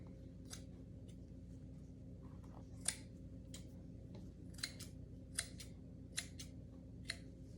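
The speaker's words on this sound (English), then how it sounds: "I'm just going to take my scissors and trim it." Scissors snip away excess material from the back of a DIY gnome kit, a series of sharp, crisp cuts at irregular intervals over a low steady background hum, close and fairly quiet.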